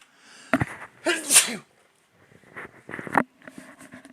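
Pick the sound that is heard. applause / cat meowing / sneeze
sneeze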